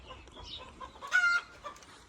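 A farm chicken clucks nearby in a short, loud burst, with a few softer clucks and bird calls around it in an otherwise quiet outdoor setting.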